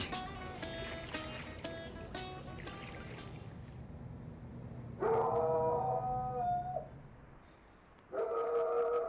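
Dog howling with long, wavering drawn-out cries that rise and fall, after a stretch of quieter patterned sounds. The howls come in two loud bursts separated by a brief lull.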